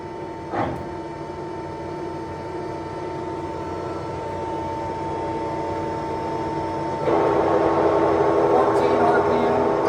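Summit gap bed engine lathe idling at its lowest speed of 14 RPM, a steady mechanical hum with a tonal whine that grows louder partway through, joined by a brief knock early on.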